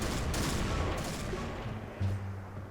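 Sustained bursts of gunfire in the battle game PUBG, dense and continuous at moderate loudness with a few heavier thuds near the end, no talking.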